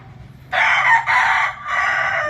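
A single close, loud crow from an aggressive rooster of bantam-type breed, a strained three-part call starting after a brief quiet moment and holding to the end, with no talking over it.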